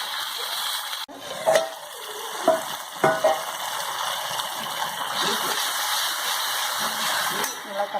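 Tomatoes with salt sauté in a pan for taro sambar, a steady soft sizzle punctuated by several sharp scrapes and knocks of a spoon stirring against the pan.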